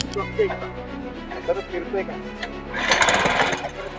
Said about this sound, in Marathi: बघू शकता हे मशीन चांगल्या प्रकारे रन होते